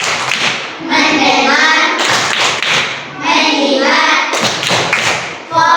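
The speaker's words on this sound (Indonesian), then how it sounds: "Tepuk konsentrasi." A classroom of children performs a rhythmic concentration clap, with sharp groups of claps and thumps separated by short pauses while young voices chant the words of the routine in time.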